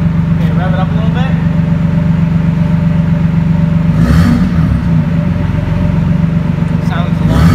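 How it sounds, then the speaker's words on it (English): A Toyota Cressida with a swapped 2JZ engine and an exhaust cutout idles with a loud, steady throb, then rises in one brief rev before settling back, with talk over it. "rev it up a little bit."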